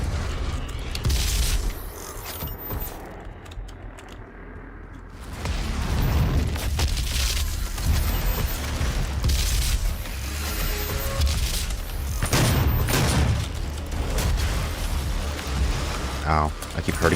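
Rocket launcher explosions in DOOM 2016, loud booming blasts and rumbling bursts over a dense, noisy game soundtrack, with a voice talking throughout.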